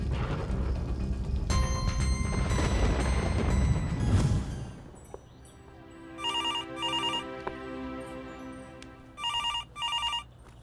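A telephone rings in a Hindi TV drama: after a loud, dense stretch of music and noise, two clear double ring bursts sound close and alone.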